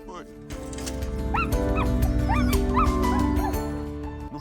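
Alaskan Husky sled dogs whimper and yip in high, rising whines with occasional barks, close and fairly loud, while a person speaks continuously over them.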